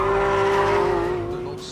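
Porsche 911 GT3 RS with electronic driver aids switched off, pushed hard into a fast corner: a loud, steady high-revving engine note with a sustained strained tone, slowly easing off toward the end, no voices.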